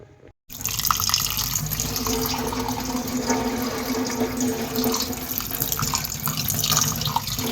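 Minced meat gets washed under running water in a kitchen sink, with a steady, close tap flow and splashing that lasts throughout, heard alone without talk.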